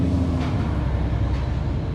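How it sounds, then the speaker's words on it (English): Steady low rumble of a passing truck, a continuous broadband drone filling the background next to a 2017 Toyota Tacoma being fitted with steel skid plates, with no talking. "Sorry about the truck noise."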